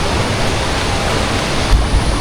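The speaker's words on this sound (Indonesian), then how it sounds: "ombaknya tuh gede banget dari kemarin" Big ocean waves at Batu Hiu beach in Pangandaran: a loud, continuous roar of surf, broad and hissing, with a couple of heavier thumps near the end as the waves break.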